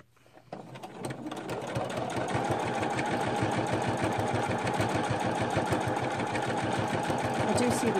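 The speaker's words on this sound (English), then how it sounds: "I'm just going to start sewing." A sewing machine stitches a tag for a junk journal, starting up after a brief pause and then running continuously with a rapid, steady needle rhythm.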